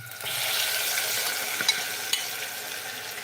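Battered shrimp heads deep frying in oil give a steady, close hiss of bubbling and crackling, with a couple of sharper pops standing out near the middle.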